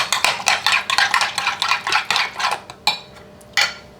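A utensil stirs diced green chilies in a pan, giving quick repeated scraping and clinking strokes that sound close and fairly loud, ending with a few separate knocks.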